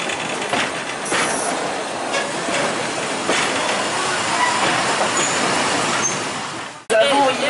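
Train rolling slowly along a railway track outdoors, a steady broadband rumble of wheels and cars going on throughout, ending in a brief cutoff and a sharper burst.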